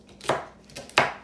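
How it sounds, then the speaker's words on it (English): Two sharp knife chops through big hunks of celery stalks on a cutting board, close and distinct, spaced under a second apart with no talking. "I'm going to chop up some celery stalks, big hunks"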